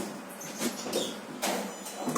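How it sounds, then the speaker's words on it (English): Lift doors slide and rumble shut with a mechanical whir and a soft thud, close and fairly quiet, alone without talk. "Door closing."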